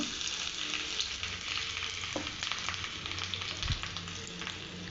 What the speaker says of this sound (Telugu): కట్ చేసిన అల్లం ముక్కలు దంచిన మిరియాల పౌడర్ కొద్దిగా జీడిపప్పులు అయితే వేసి నేను పోపు అయితే వేసుకున్నానండి